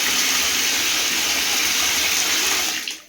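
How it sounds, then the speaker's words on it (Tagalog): Strong water gushing from a spring or pipe in a house, a loud steady hissing rush that continues unbroken and then tapers off at the end. "Lakas naman ng tubig ah."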